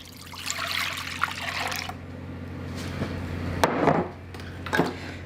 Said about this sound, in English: I'm going to put my milk in.